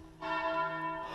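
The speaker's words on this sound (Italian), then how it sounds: "la piazzettina con la chiesa suona, suona bon bon la campana" A single church bell rings once in a small village square near a hillside mine, a rich sustained tone that swells and hangs for about a second before fading.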